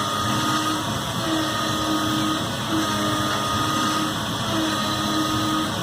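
A PCNC 770 CNC mill runs a cut with a steady, loud machining drone and a sustained high whine, joined by a recurring mid-pitched tone that comes and goes.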